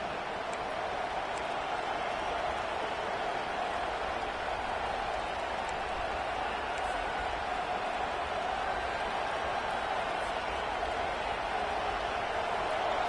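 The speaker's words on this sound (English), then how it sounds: "Here comes this home crowd as the defense tries to get off the field on 3rd down." Home crowd in a Madden football video game roars steadily as the defense faces third down, a dense, even wash of cheering and noise holding at constant loudness throughout, with no clear voices standing out.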